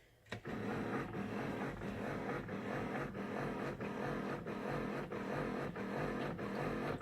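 A Keurig coffee maker gives a steady mechanical whir with a low rumbling drone and faint periodic clicks, constant and fairly loud throughout after a brief quiet start.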